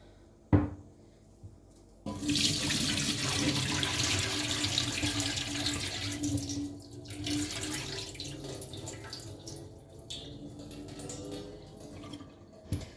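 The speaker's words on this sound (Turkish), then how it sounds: "aslında hani kabağı kendim kestim, yıkadım kestim şey yaptım. Onun için gerek yok ama Yine de bir sudan geçireyim dedim. Süzelim." Cut pumpkin is rinsed under a running kitchen tap and drained, beginning with a knock and short pause, then a loud, steady rush of water into the sink that eases toward the end with splashing and clatter.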